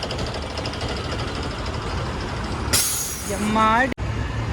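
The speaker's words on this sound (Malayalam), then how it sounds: "വേസ്റ്റ് കൊണ്ടുപോണ വണ്ടി." A garbage collection truck on a Bangalore street gives a loud, sharp air-brake hiss near the end, over steady engine and traffic rumble, with a voice talking nearby.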